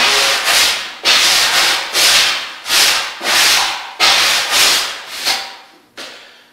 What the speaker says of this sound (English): So if you take your sanding sponge